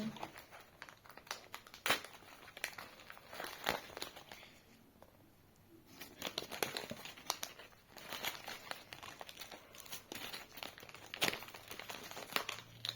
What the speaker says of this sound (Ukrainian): Пакетик, ти реально мене вже задовбав, бо я з такими пакетиками не дружу, які відкриватися не хочуть